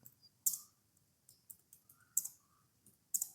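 A computer mouse clicks while a link is copied and pasted: a few sharp, quiet clicks sound close up, spaced irregularly, with softer taps between them in a near-silent room.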